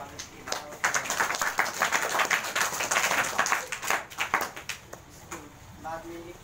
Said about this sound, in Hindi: आप लोग तालियों से इनका स्वागत कीजिएगा